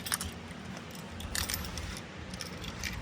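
A set of car keys for a 1958 car jingles in a few short metallic bursts spaced across a few seconds, faint and close over a soft background hiss.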